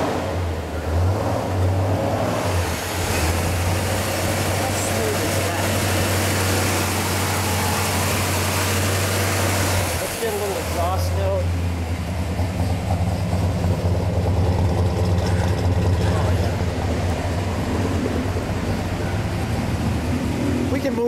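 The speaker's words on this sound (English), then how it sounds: "we're gonna just listen to the exhaust note and then we'll shut it off" A 1969 Pontiac GTO Judge engine idles with a low, steady exhaust rumble indoors, a brief blip around the middle, with people talking nearby over it.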